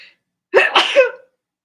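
A single loud, close sneeze bursts out in one quick explosive breath, set against near silence apart from a brief faint sound just before it.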